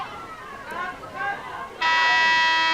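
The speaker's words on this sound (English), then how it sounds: "There's the buzzer for the end of the first half." A long, loud, steady electronic buzzer sounds at the close of the first half of a girls' varsity lacrosse game, cutting in sharply after crowd chatter and lingering to the end.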